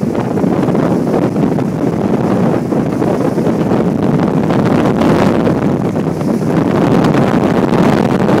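Strong, gusty winds and squalls from Tropical Storm Isaac roar in a steady, loud blast against the microphone, swelling and easing slightly but never letting up.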